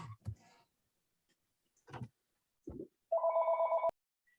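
A telephone gives one short, bright electronic ring burst near the end, following a few scattered soft clicks and brief faint sounds in an otherwise quiet room.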